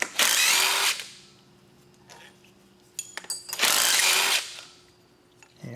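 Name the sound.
power tool removing power steering pump bolts on Ford F-150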